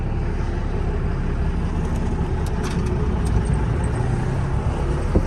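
A Cummins-powered vehicle on a night test drive around the block gives a steady, fairly loud engine drone and road rumble throughout, with faint rattles and clicks on top.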